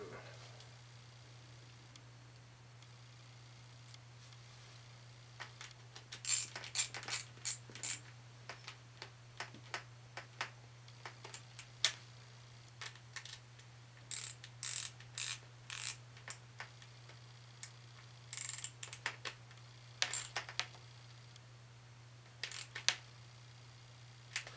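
A nut is tightened over a split lock washer on a 6-meter delta loop antenna mount, giving irregular bursts of sharp ratcheting clicks over a constant low electrical hum, fairly close and otherwise quiet.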